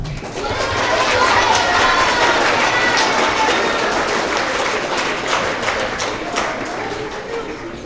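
Sustained applause from a school assembly audience for 3rd to 5th grade Growth Mindset Award recipients, a dense patter of many hands that swells quickly and then tapers slightly while holding steady.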